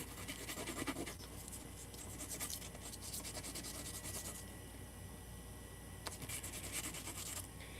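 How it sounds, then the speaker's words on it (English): Sandpaper rubs back and forth over a metal boat hardware part (pintle and gudgeon), a dry scratchy rasping in uneven strokes with brief pauses, close and fairly quiet, no talk. "And there was a piece of sandpaper right here. Let's clean this up a second."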